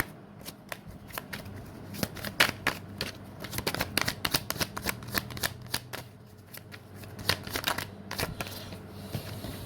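Tarot cards being shuffled by hand, a run of crisp riffling bursts and soft slaps that come close and clear in an uneven rhythm throughout, with no talk over them.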